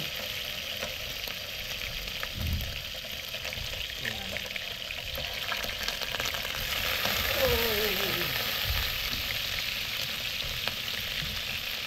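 Steady crackling sizzle of beef ribs frying in hot oil, continuous and close, with faint stirring and a few soft background noises.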